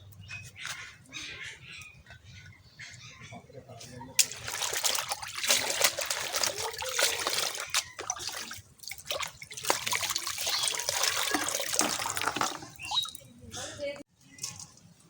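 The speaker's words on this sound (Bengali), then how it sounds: "এই যে মাছটা আরেকটু আমি ধুয়ে নিব একবার" Small fish being washed by hand in water in a village kitchen, with splashing and trickling that rise and fall for several seconds, and someone speaking intermittently.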